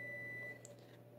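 A kitchen oven sounds a single electronic beep once preheated, a steady tone held for about half a second over a low appliance hum, then fading to quiet room noise.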